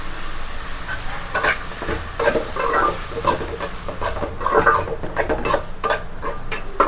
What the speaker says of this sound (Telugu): టమోటాలను కూడా బాగా కలిపేసుకొని కొంచెం ఉప్పు వేసి మూత పెట్టేసుకోవాలి.